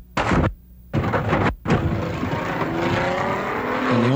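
Barber Dodge Pro Series race car crashing at St Petersburg in 1997, heard onboard: loud bursts of impact noise broken by sudden silences, then the engine droning and whining on with rising pitch.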